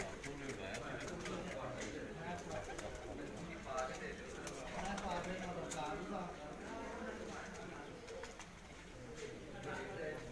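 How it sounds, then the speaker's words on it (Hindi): Pigeons are fed on a rooftop, cooing and fluttering close by in a steady busy murmur, with people talking throughout and constant outdoor background noise. "उस्ताद सनी जट साहब जी अपने कबूतरों को खुराक दे रहे हैं जी"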